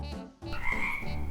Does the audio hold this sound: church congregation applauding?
no